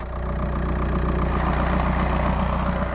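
A 2004 Volkswagen Jetta TDI diesel with an aftermarket intake idles steadily, a loud, close, even low rumble with a fast regular diesel clatter throughout.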